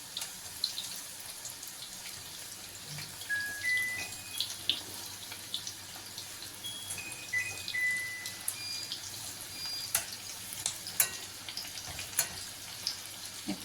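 Popcorn chicken frying in hot oil on a low flame: a steady, close sizzle with scattered pops and crackles running throughout, and faint clinks of stirring now and then.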